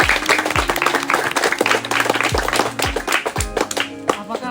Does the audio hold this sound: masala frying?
no